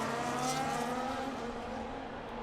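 Race cars in the F1 25 video game at the Belgian circuit, a layered roar of engines revving and accelerating hard together, loud at first and fading slightly as they pull away.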